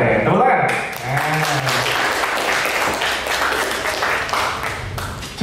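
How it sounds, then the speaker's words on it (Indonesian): Scattered clapping from students in a school broadcasting class, moderately loud and uneven, with voices heard at the start and mixed through the applause. "Keren, tepuk tangan."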